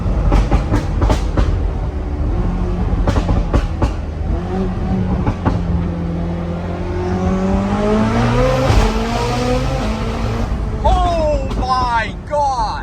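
A Koenigsegg Jesko accelerating hard, its engine note climbing steadily in pitch through the gears as a loud, raw roar heard from inside the cabin, with people talking over it.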